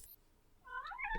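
A house cat gives a single rising meow near the end, fairly close but soft, after a quiet room pause.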